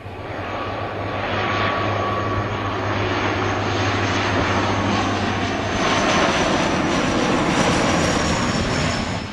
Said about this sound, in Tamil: இது ஹாக் எனப்படும் தரையை தாக்கும் விமானம்.